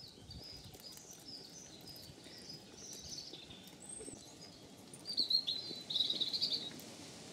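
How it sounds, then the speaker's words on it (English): Birds chirp and sing on a spring walk among bluebells where no cars pass, small tweets scattered throughout and louder bursts of song toward the end, heard alone without talk. "you can really notice all the bird song with the absence of cars"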